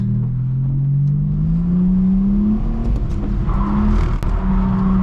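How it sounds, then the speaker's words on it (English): An automatic Nissan Skyline R34's engine revs hard and holds high during donuts, the pitch rising and falling as the car keeps turning under steady throttle. "It's gonna be tough to get like a full donut going here."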